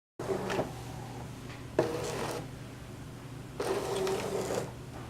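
A Brother ScanNCut DX cutting machine loads its mat: three bursts of soft motorized whirring and feeding, quiet and close, separated by a low steady hum, with a small clunk in the middle.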